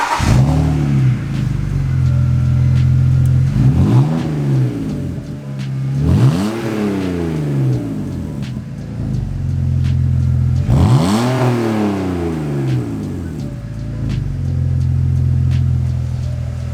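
BMW E46 engine running with a dual 3-inch muffler-delete exhaust, giving a loud, close, throaty idle broken by several sharp revs that rise and fall, heard alone without talking.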